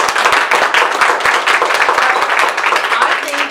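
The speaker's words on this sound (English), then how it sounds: "we should give Barry a huge round of applause for being here" Audience at a Tulsa Democratic Party gathering applauding Barry Friedman, loud dense clapping sustained throughout at close range.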